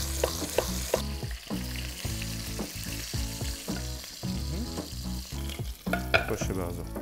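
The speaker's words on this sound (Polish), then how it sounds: "A ja w międzyczasie, że dalej smażymy naszą gęsinę" Goose pieces fry skin side down in a pan for a ragout, giving a steady close sizzle with bursts of crackle and the clatter of stirring and utensil knocks throughout.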